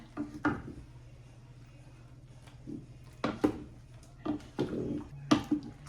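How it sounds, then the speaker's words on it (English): Soft scraping and clinking of a utensil against a pot of boiling cherries, several irregular taps and stirs over a low background hum. "I'm gonna let it boil for a minute and keep stirring it."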